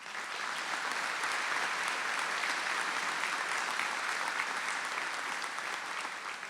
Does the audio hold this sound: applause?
yes